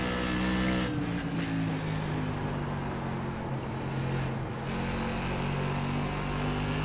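Whelen Modified race car engine in iRacing at USA International, a loud continuous roar held at steady high revs with small pitch shifts, alone without talk.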